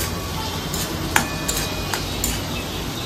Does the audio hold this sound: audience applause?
no